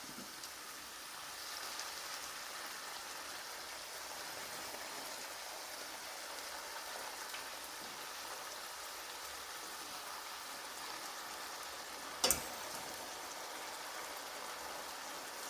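Rice noodles with pork fry in a pan with a faint, steady, rain-like hiss, and a single sharp clack sounds near the end.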